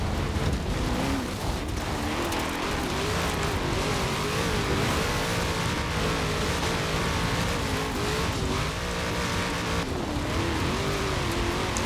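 A 2018 Chevrolet Camaro ZL1 engine in Forza Horizon 4 roars steadily and loudly throughout, with revving shifts in pitch and occasional tire squeal, heard from outside the vehicle.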